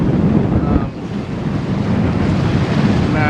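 Loud wind buffeting and rushing waves on a sailboat beating upwind at sea near St. Martin, a constant roaring wash close to the microphone.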